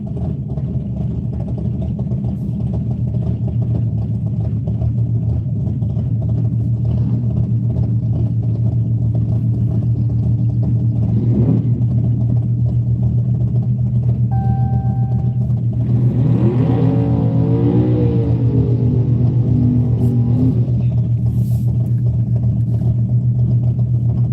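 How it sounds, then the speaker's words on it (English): A strong-running race car engine at a track, its steady mid-pitched drone humming continuously in the background and swelling with a revving, accelerating rise about two-thirds of the way through. "Car that you're hearing in the background"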